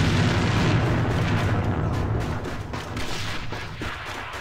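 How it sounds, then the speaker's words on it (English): A grenade blows up in the online shooter game A.V.A., a loud rumbling blast whose noisy crackle sustains and slowly fades. "Quelly nearly gets his head taken off with a nade there"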